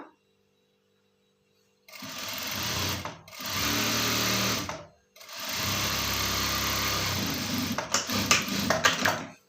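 A sewing machine stitches a readymade top in three bursts of steady whirring, separated by brief pauses, with the last run ending in uneven stuttering stitches.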